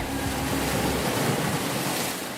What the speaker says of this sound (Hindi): इस समुद्र का तो दूर दूर तक कोई अंत ही नहीं है।